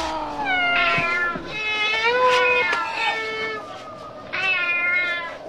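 A cat meows close up in a home, giving several drawn-out, wavering meows one after another with short gaps between them.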